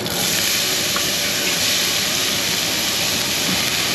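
Chopped onion sautéing in a little oil in a pan, giving a steady, dense, loud hiss that holds constant throughout, close up with no voices.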